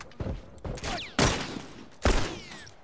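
Rifle shots in The Last of Us multiplayer crack out in a few sharp, separate bursts, fairly loud, with faint game noise and ricochet-like whines trailing between them.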